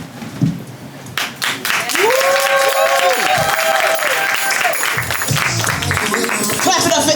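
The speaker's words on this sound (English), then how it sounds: "Clap it up for MI one more time, ACP family" Clapping and cheering crowd at a poetry event, starting thin and swelling into loud, continuous applause mixed with rising whoops and shouting voices.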